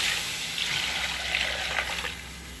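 Liquid pouring in a continuous steady stream into a cooking pot of curry with chickpeas and potato, a close, even splashing wash with no voices.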